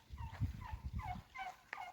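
Several short warbling turkey gobbles and chirps repeat in quick bursts over a low rumbling background, with no talking.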